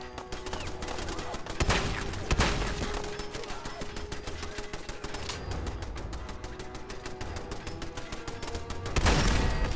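Turret gunfire in the Fallout 4 video game: rapid, evenly spaced automatic shots hammering continuously, with a few heavier blasts standing out, loud and close throughout.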